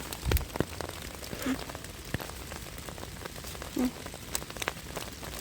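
Rain falls in a winter German forest, giving a steady, quiet patter broken by scattered close drips and taps, with no voices.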